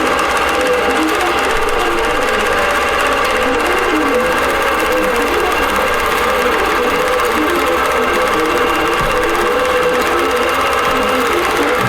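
A sewing machine stitches appliqué onto a basted quilt, a loud, close, rapid steady whirring with regular needle clatter running the whole time.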